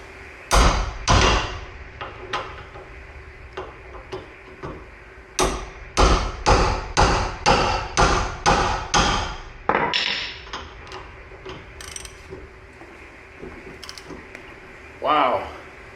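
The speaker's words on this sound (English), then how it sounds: "Sometimes you just knock the end of the wrench and it'll break them free." A sledgehammer knocks the end of a wrench to break loose the rear tow hook bolts on a 2025 Toyota Tacoma, giving a run of about a dozen sharp, loud metallic strikes, several in a quick rhythmic burst midway, with fainter clanks between.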